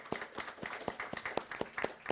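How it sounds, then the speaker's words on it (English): A small audience at a report-launch panel discussion claps in a light, fairly even rhythm of distinct, quiet hand claps, with no one speaking over it. "A big applause for that comment."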